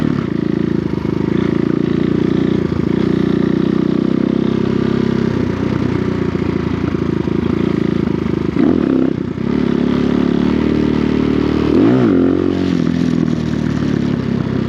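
CrossFire CFR250 budget dirt bike engine running close by while riding in to park, a continuous buzzing motor with clattering and scraping, a brief rev near the end.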